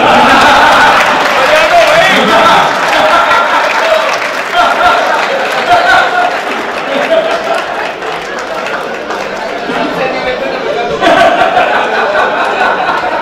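Audience clapping and cheering at a Rajasthani comedy poetry gathering (hasya kavi sammelan), a dense, steady wash of applause with scattered laughter and crowd chatter throughout.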